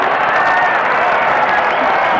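A big crowd at the Gabba roars and applauds during a 1994 AFL football match between the Brisbane Bears and Essendon, a dense, steady wash of cheering and clapping.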